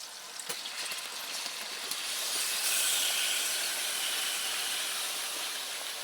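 Pork dropped into a hot pan, giving a steady broadband sizzle and hiss that swells after a couple of seconds and holds, with a few crackles early on and no voices.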